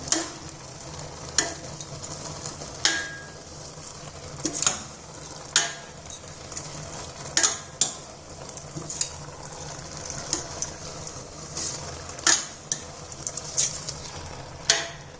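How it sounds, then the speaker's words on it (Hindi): A spoon repeatedly scrapes and clacks against a pot while mustard greens and vegetables for sarson ka saag sizzle steadily underneath, the strokes coming at an uneven, unhurried rhythm. "अब मैंने सबको मिक्स कर देती हूँ"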